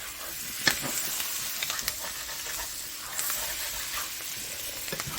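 Butter melting into burger drippings in a pan, sizzling steadily while a spatula scrapes the seared bits off the bottom in a few light taps and scrapes, close and moderately quiet.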